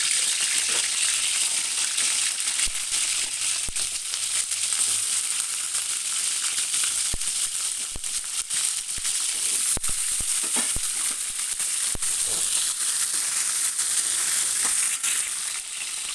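Stuffed brinjals fry in hot oil with a loud, continuous, close sizzle, dotted with occasional sharp pops and clicks, and no one speaking.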